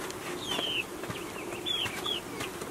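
Chickens cluck and call in a farmyard where beans are grown, short squawks standing out over steady background noise, fairly close and moderately loud.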